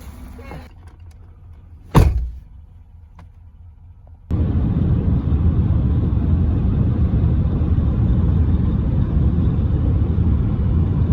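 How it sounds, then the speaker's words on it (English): A car drives off with a low, steady interior road rumble that starts abruptly partway through and keeps going; before that, quiet cabin sounds and a sharp thump like a door shutting. "now we're getting in the car to leave"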